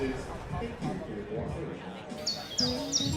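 Birds chirp and tweet in short repeated high calls, layered with music and speech in a radio broadcast setting.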